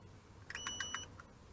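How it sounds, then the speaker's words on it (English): A handheld multimeter on a continuity test emits a quick run of short, clear electronic beeps, fairly quiet against a soft background hiss, with no talking. "I'm going to do a simple continuity test. It has an audible alarm."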